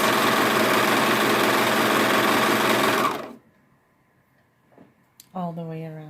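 A serger overlock machine whirs loudly and steadily as it sews fabric for a t-shirt and leggings, then stops abruptly, leaving near silence before a voice begins speaking.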